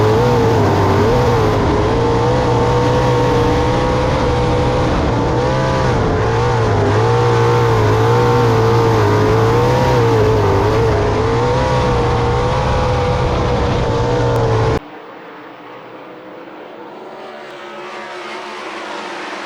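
World of Outlaws sprint cars race the feature at Black Hills Speedway, a loud, steady, high-pitched engine roar with wavering pitch as the pack charges down the front stretch into turn 1, cutting abruptly to a fainter, distant drone near the end.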